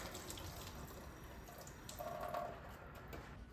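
Glass bottle lowered into a pitcher of water to soak off its label, a soft watery slosh and trickle with a brief gurgle, faint and close, with no talk.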